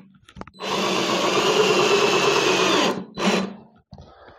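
A Parkside PABS 20-Li E6 cordless drill drives a 50 mm screw with a loud, steady whir lasting a couple of seconds, then gives one short burst as it seats, close up with no talking.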